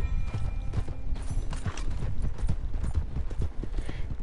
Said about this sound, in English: Horsey is apparently a little hungry too.